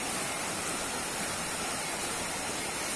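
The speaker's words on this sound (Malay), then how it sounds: "Tu sungai." Steady, broadband rush of a river flowing beside a forest trail near a campsite, constant and fairly close with no talking.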